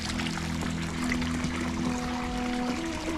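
Natural spring water flows in a steady, close trickling stream, running continuously with no voices.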